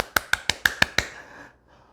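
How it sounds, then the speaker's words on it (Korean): Six quick, crisp hand claps in an even rhythm ring out close by at a children's Sunday school Bible story session, then fade into silence. "우리 수고한 노아에게 박수 한번 쳐줄까요?"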